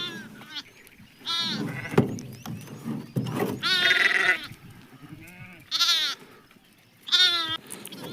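Sheep bleat loudly and close by in several separate wavering calls with short pauses between them, and the bleats overlap now and then.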